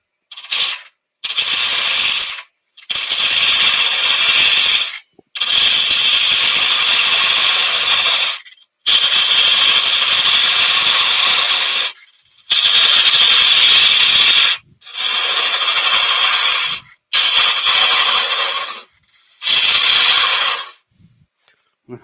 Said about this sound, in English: I'm going to use my small spindle gouge on this.